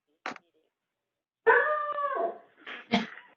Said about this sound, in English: My dog doesn't like whoever's sneaking up on me.